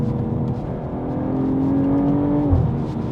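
A BMW M440i Gran Coupe xDrive with a B58 engine and ZF transmission pulls hard under acceleration. The engine note rises smoothly, sustained and loud, and no one talks over it.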